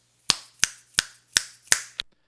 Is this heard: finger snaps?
yes